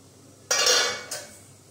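A cooking pot lid lifted off during amla pickle preparation: a bright metallic scrape and clatter, then a second shorter clink as the lid settles, close and loud with no talk.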